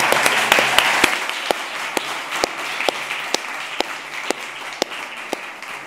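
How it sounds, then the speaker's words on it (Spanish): An audience at a lecture event in Barcelona's Palau Macaya applauds: dense, steady clapping with distinct sharp individual claps standing out, sustained throughout and tapering slightly toward the end. "Un aplauso para todos y todas."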